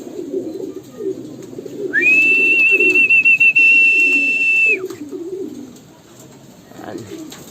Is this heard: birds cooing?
yes